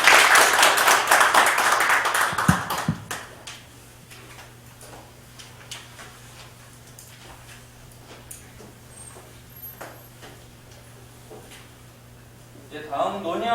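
A meeting audience at a labour union's extraordinary delegates' assembly claps for three council members; a dense burst of applause fills the first few seconds, then fades to a quiet room hum with scattered faint taps.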